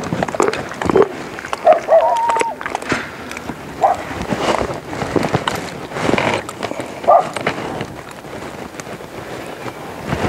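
A green horse's hooves clip-clop in an uneven, moderately close rhythm during a training session, with wind noise and occasional low voices.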